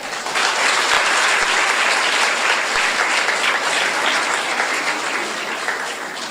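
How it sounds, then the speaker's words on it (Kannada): Loud, steady applause fills a hall at a book launch on reading the Constitution in Harihara, a dense continuous wash of many hands clapping close by with no talk over it. "ಬ್ರಿಲಿಯಂಟ್ಸಾ ಅಲ್ವಾ ಅಂತಂದಾಗ ಜೋರು ಚಪ್ಪಾಳೆ ಅಲ್ವಾ."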